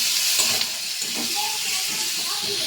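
Sliced onions with salt, then chopped garlic and ginger, frying in a pan in a home kitchen, heard as a steady bright sizzle and hiss throughout, with faint background voices.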